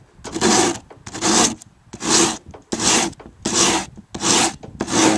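Sandpaper rubbed along the edge of an Osage orange snake bow against a straight edge: seven steady, rhythmic rasping strokes, close and loud, with brief pauses between passes and no talk.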